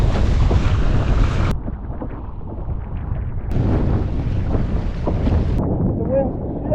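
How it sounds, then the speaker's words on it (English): Strong wind buffets the microphone while windsurfing at sea off the Isle of Man, a loud continuous roar that drops briefly and then rises again, with water rushing beneath. "The wind just eased for a second, which is nice."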